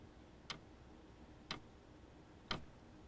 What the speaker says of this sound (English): we over-exaggerate the sound of the clock ticking